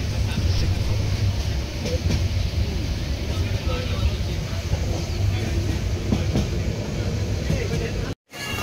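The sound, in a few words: train running to Cox's Bazar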